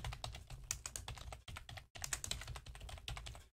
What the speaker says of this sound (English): And then I'll just type my text.